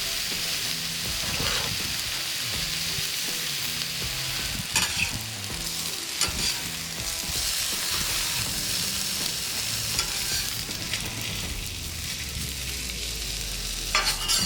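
Four strips of partially cooked Trader Joe's bacon sizzle on a griddle, a dense, steady crackle like rain, close and continuous with occasional spatula clicks.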